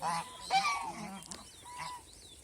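Farm waterfowl honk nearby in a few short nasal calls, one louder honk followed by softer answering cries against a quiet background.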